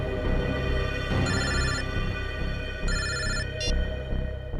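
A telephone rings in two electronic bursts with a short chirp after, heard over loud dramatic background music in a TV crime drama scene.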